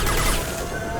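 A short, loud burst of rapid gunfire in the sci-fi shooter Mass Effect 2, with close, overlapping shots crackling together and then thinning out within about a second.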